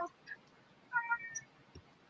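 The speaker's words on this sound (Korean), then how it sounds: "이쪽 집 고양이에요" A house cat meows several times in short, clear calls, moderately close, with quiet room noise between the cries.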